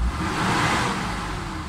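A Mitsubishi Adventure gasoline engine revs close by with a steady, loud, rushing roar that holds at high revs and then eases slightly. No one speaks.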